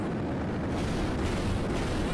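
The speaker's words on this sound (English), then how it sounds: "Explosions." Explosions boom in the Thrillville: Off the Rails video game, a dense, steady rumbling roar of blasts and bursts running continuously without any talk.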